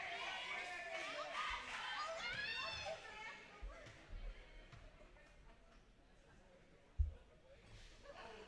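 Home fans of Worth County cheer and chatter in a gym during a boys high school basketball district game, a steady crowd roar with voices and a sharp thud near the end.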